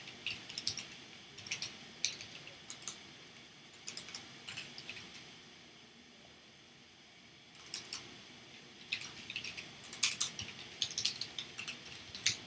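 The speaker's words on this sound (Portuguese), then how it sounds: "Enquanto isso eu estou digitando umas outras coisas aqui" Someone types on a computer keyboard in bursts of quick, light clicking. The keystrokes are close and soft, with a quiet pause in the middle before the tapping resumes.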